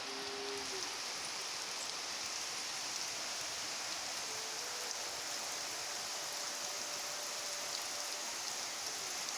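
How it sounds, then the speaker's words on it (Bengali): Heavy evening rain falls in a steady, even hiss, soft and distant, with no voices over it. "দেখুন ঝমঝমিয়ে বৃষ্টি হচ্ছে"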